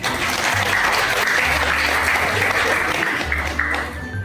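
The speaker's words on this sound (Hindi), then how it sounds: "सभी के लिए एक बार जोरदार तालियां बजा दें" Steady, dense applause from a gathered crowd at a get-together and birthday celebration for seven members, continuous and fairly loud throughout with no pauses.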